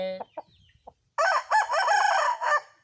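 A Thai chicken gives a few short clucks, then a loud, close crow rings out in several sustained bursts, dominating the end with no talking.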